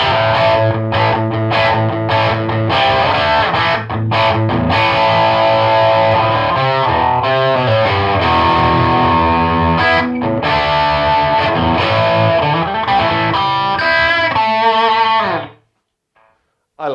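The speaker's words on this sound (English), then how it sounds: "I think this has been a good impression of what this guitar can do" An electric guitar fitted with Fishman Fluence pickups plays loud, distorted classic rock riffs and chords, close and continuous, then cuts off abruptly to near silence just before the end.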